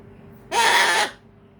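A cockatoo gives a single loud, harsh screeching call lasting about half a second, standing alone against a quiet background.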